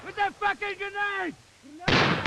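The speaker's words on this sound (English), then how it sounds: "Grenade!" After shouted voices, a single loud grenade blast bursts in abruptly and carries to the end, noisy and broadband.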